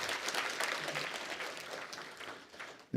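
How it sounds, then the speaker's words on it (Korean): Church congregation applauding to welcome new members during a Sunday service, a dense wash of clapping filling the room evenly, easing slightly toward the end. "다시 한번 우리 뜨거운 환영의 박수 하겠습니다."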